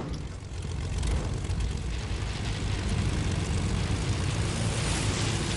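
A propeller airplane in a video game drones steadily, a loud continuous engine roar that swells slightly after the first second and holds.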